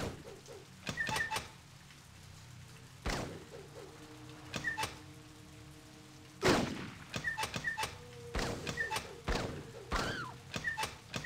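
Scattered gunshots in the Blade Runner PC video game, several sharp isolated bangs spaced seconds apart over a quiet ambient background, with occasional small chirps between them.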